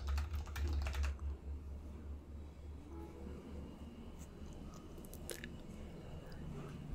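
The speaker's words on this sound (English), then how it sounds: "So I'm going to click on plugins, add new, and type here" Light, rapid clicking of keys on a computer keyboard as text is typed, faint and close, with no one talking.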